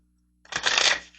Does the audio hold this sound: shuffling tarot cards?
yes